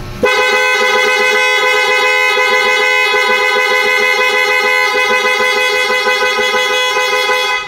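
A loud, continuous Benelli motorcycle horn blares with a steady tone, sounding close and alone for several seconds before cutting off.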